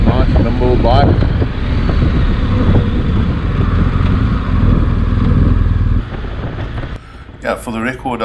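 Harley-Davidson Pan America motorcycle riding, a steady engine drone with wind rush running loud and close for most of the stretch, easing near the end as a voice speaks briefly.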